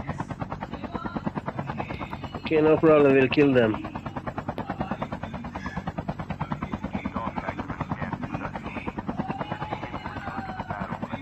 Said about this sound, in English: Another helicopter has moved to harbor.